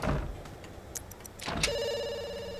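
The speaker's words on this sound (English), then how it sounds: "this phone rings constantly" A household telephone rings in The Sims 2, its bright electronic trill sounding in short bursts and then holding a steady tone over faint game ambience.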